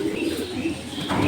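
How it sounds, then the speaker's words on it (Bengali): A male racing pigeon coos in a loft in Tangail, giving a short, low throaty murmur with other birds audible close by. "নর কবুতর।"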